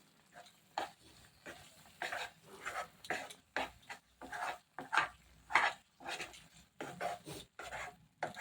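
Capsicum halwa with milk powder being stirred in a pan, with repeated scraping and clinking spoon strokes in an irregular rhythm, close and moderately quiet, with no talking.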